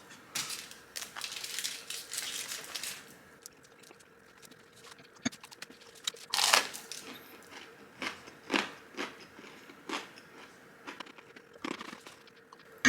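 Close-up bites and chewing of a crunchy Red Baron frozen pizza crust, with irregular crisp crunches and crackles coming in bursts over about thirteen seconds, loud near the mouth and without talk.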